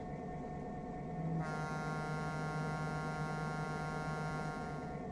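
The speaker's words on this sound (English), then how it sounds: "it has a one of those old-style air horns" Old-style locomotive air horn in Trainz Simulator 3 sounding one long, steady chord that starts abruptly and holds loud and close for several seconds over a low hum.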